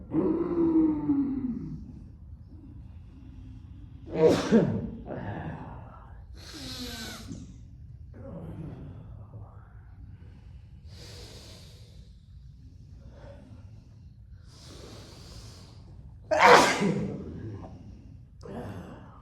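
Slow Ujjayi breathing during a yoga session, long audible breaths through a constricted throat, a few louder exhalations standing out against quieter passages, close and without speech.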